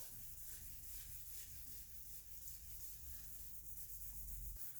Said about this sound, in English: It actually makes a sound as you're sanding.